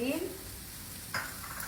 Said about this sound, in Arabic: شوفوا الحين أنا قاعدة أحمس البصل